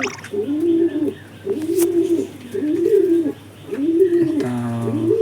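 Released pigeons coo in repeated rolling phrases, close and loud, with a brief chirp near the end.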